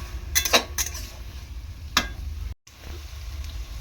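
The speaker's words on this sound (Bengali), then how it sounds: "তো এখন টমেটোটা দিয়েছি, সেই জন্য একটুখানি নাড়াচাড়া করে নিচ্ছি।" Taro leaves with prawns and tomato are stirred in a frying pan, a soft sizzle underneath a few sharp scrapes and taps of a spatula against the pan, then quieter frying.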